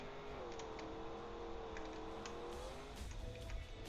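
A desert car's engine revs in a Trackmania-style racing video game, a steady high-pitched drone that climbs and dips slightly, with faint tire noise and no talking.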